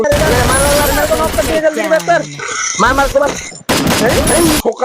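Gunfire from the mobile game Free Fire plays in bursts, sharp rapid shots and booms under and between loud conversational voices talking over it.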